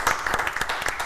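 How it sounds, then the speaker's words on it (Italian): Applause and clapping for a sports director at a cycling event, a short burst of sharp, uneven claps, fairly close and moderately loud, with a little talk mixed in. "un applauso"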